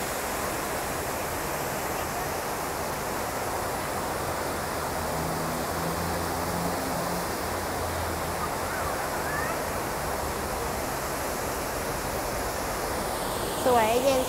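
A waterfall at Ko Yuan in Nakhon Sawan pours as a steady, dense rush of water, constant and fairly close, with a brief louder burst at the very end.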